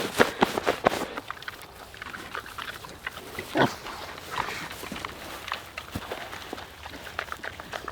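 Pigs grunting and snuffling close by in winter bedding, with rustling and shuffling movement around them.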